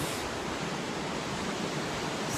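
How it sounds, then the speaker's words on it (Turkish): Angel Falls in Canaima, Venezuela, the world's highest waterfall with a drop of about 1000 metres, gives a steady, dense roar of rushing water that stays loud and unbroken throughout. "yukarıdan aşağıya tam 1000 metre düşen dünyanın en yüksek şelalesi"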